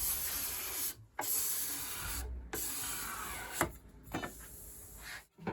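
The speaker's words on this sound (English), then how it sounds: "I'm going to remove the saw marks and any other defects on the legs with the scraper." A hand scraper is drawn along wooden table legs to remove saw marks, producing a series of long hissing, shaving strokes separated by short silent pauses.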